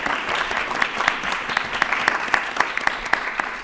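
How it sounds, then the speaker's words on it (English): Steady applause from an audience at an annual academic symposium, honoring the event organizers, with dense clapping throughout and a few sharper claps standing out. "please give an applause to them, because they are the one that did everything"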